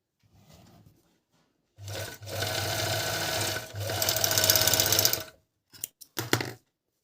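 A Dragonfly GN1-114D four-thread overlock sewing machine stitches fabric in close, loud bursts of fast whirring. A short burst comes first, then a long run with a brief pause, then quick stops and starts.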